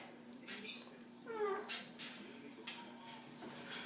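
A pet chicken makes a short meow-like call imitating a cat, heard close up amid light household clatter and a person's voice talking around it.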